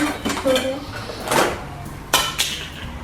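Small toy pots and cutlery clink and clatter in quick, close bursts, with a few sharper metallic knocks.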